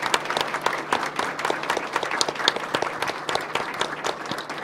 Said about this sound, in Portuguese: palmas para quem andou 700 quilômetros